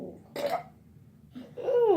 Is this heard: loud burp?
yes